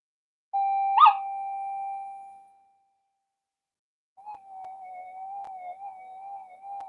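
A GP Extreme metal detector, just repaired after a burnt input stage on one channel, gives a steady electronic tone with a brief click, falls silent, then returns as a faint wavering hum, with no voices.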